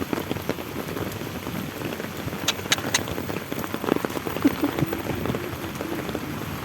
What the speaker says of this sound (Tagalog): Bigla-biglang, ano, lumakas ang ulan.